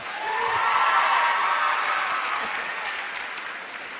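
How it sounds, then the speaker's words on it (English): An audience at a leadership talk applauds in a steady, dense wash of clapping that swells early and then slowly fades, close and fairly loud. "And give them another round of applause."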